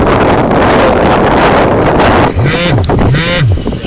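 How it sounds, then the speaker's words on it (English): Heavy wind buffets the microphone with a constant loud rumble, while a couple of short whooshing pulses sweep through near the end. "do something too windy out here"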